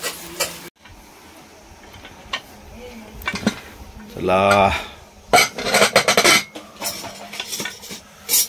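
Metal pot clatter and clanking as a pressure cooker of kukar popti is lifted off a stove at home, with a burst of hissing steam mid-clip and scattered clinks, under occasional speech.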